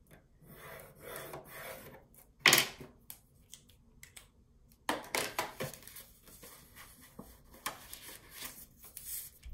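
Paper being scored at the half-inch mark on a scoring board for a flipbook flatmail with a shaker cover: dry rasping and rubbing strokes with a sharp scrape burst partway through, close and moderately loud, no voices.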